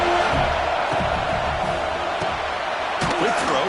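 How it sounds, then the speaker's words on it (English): A packed college football stadium crowd roars during a Texas vs. USC game, a loud, constant wall of cheering and yelling with no break, a commentator's voice partly heard within it. "It's early, but this crowd is fired up. Listen to this noise here."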